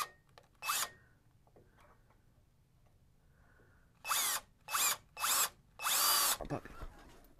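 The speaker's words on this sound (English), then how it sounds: "I'm just drilling a hole. A little starter hole so I can put the bolt in." A power drill bores a small starter hole for a bolt while new bunk boards are fitted to a Tracker Pro 170 boat trailer: one short burst, a pause, then four quick bursts in a row, close and loud against quiet surroundings.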